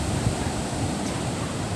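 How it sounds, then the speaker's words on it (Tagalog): Strong wind roars steadily across the microphone, a dense, rushing noise with no pauses. "Usog ang hangin."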